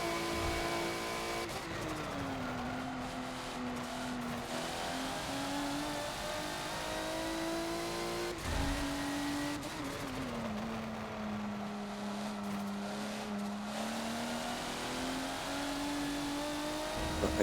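An LMP1 prototype race car at full throttle in Forza on the Maple Valley track, engine pitch climbing through gears with brief shift dips, steady, loud and close with no talking.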